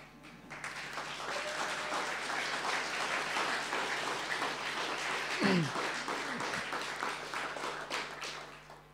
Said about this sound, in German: Ich würde gerne euch bitten, jetzt mal erstmal einen kurzen Applaus für denjenigen zu bringen